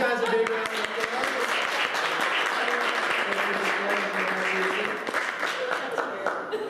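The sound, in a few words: audience applause after mentalism demonstration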